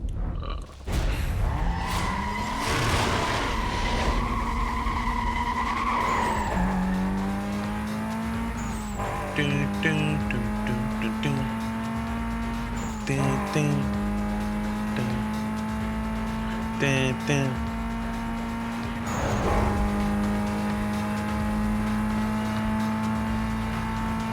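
Race cars in Need for Speed Most Wanted (2005) during a checkpoint race, engines droning and shifting pitch as they accelerate, with repeated tire squeals and skids, continuous and loud.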